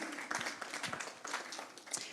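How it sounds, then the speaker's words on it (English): An audience at a synagogue's annual meeting claps in a brief, moderate patter of mixed hands, heard from a short distance with no talk over it. "So we're applauding Lisa Rubin and her team."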